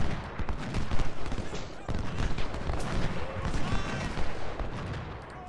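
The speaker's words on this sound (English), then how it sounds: "Say hello to my artillery." Ultimate General Civil War battle at Gettysburg with crackling gunfire and distant cannon booms in irregular bursts, a dense battle din that stays at moderate loudness throughout.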